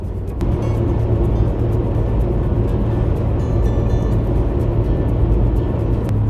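A cheap cold-climate kei car cruises on a Japanese expressway in midwinter, loaded with a bed in the back; steady loud engine drone and road rumble continue without a break, with no talk.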